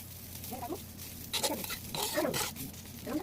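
Crushed coriander leaves frying in a pan, soft sizzling with intermittent stirring scrapes and taps, close and moderately quiet.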